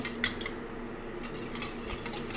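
Beaten eggs being mixed in a plate for a bread omelette, a continuous wet stirring and faint scraping with a few light clinks, close and steady, without talk.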